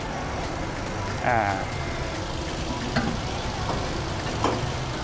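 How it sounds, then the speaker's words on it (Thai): A 2019 Nissan Almera 1.2E Sportech with a 1.2-litre three-cylinder engine idles with a steady low hum, while someone talks over it in a few short bursts. "เครื่องยนต์พันสองนะครับสามสูบเท่านั้น"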